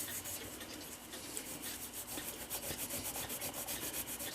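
Steel wool rubbing steadily against a Seth Thomas mantel clock part, a continuous close, soft scratchy scrubbing with a regular back-and-forth rhythm throughout.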